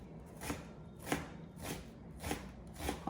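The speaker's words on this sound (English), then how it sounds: "So I'm gonna cut my onion up" A knife chopping an onion on a cutting board, with about five crisp, evenly spaced chops heard close up and no talking.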